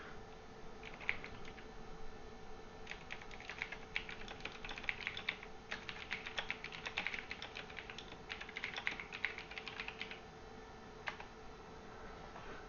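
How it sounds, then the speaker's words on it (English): Typing on a computer keyboard: quiet, irregular clusters of light key clicks over a faint steady hum, with short pauses and a final single tap. "here we can just type in a message"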